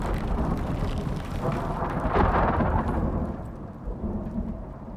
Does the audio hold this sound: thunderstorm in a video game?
yes